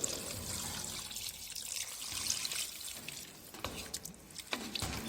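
Water poured into a pot of chicken broth, a continuous close trickling and splashing stream that ends with a few drips and squishes.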